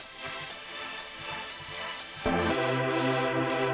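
Synth tone from a tremolo plugin with the modulation depth turned up, pulsing in a steady rhythm about twice a second, then swelling into a fuller sustained chord that keeps throbbing; alone, with no talk.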